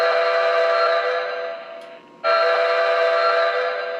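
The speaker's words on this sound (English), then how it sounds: "So instead of the standard whistle in the modern one, we have the upgraded electronic one," An upgraded electronic whistle sounds on a Lionel 2056 toy locomotive: a loud, steady, multi-tone whistle that fades briefly, cuts out for a moment, then returns at full strength.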